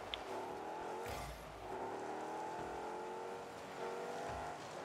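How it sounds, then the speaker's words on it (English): A car engine in the video game Rocket League drones and revs steadily, rising in pitch in repeated sweeps with a brief whoosh near the start, loud and close with no speech. "I just love the new engine customizations. I love them. Like, they're just engine sounds."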